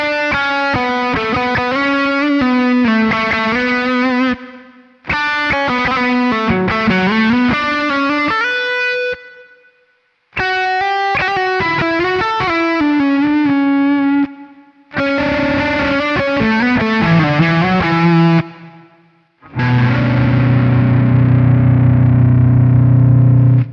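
Distorted electric guitar through effects is cut in and out with a volume pedal: loud sustained chords and note runs in several bursts, separated by sudden silences, ending in a buzzing noise hum.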